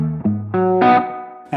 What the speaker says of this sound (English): when I'm dialing in a Spring Reverb, it's either to achieve some mono depth or it's for more of a character part